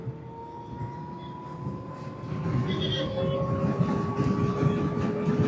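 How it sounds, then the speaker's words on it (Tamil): Ola Roadster X electric motorcycle at speed on an open road, its motor giving a steady tonal whine that slowly rises in pitch over a broad rumble of wind and road noise. "மோட்டர்லேருந்து ஒரு சவுண்டு கேட்குதுங்க, ஓன்னு."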